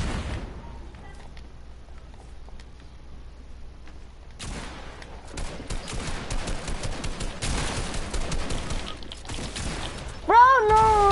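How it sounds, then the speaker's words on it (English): Grenades going off and bursts of gunfire in a multiplayer shooter game, a quiet stretch giving way to several seconds of dense, loud blasts and rapid shots, with a brief rising electronic tone near the end. "I hear nade going off."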